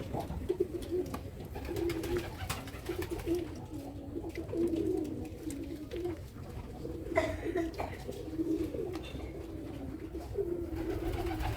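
Jalali pigeons coo softly in repeated low, rolling calls, with a faint background murmur throughout.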